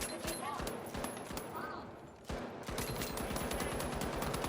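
Akimbo .50 pistols fire in The Finals video game, rapid sharp shots in quick bursts with a short pause midway, close and loud over game ambience.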